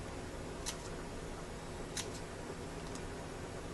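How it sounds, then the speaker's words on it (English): Scissors snip through a paper banner for a handmade Valentine's Day card, three short crisp cuts spaced about a second apart over a quiet room hiss. "and then I hand cut that banner."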